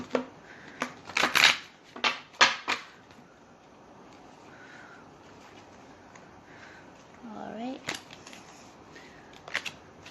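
Tarot cards being shuffled by hand in a riffling, flicking burst of several quick snaps, followed by a lull, then another short flurry and a card flipping out near the end, with a voice briefly present.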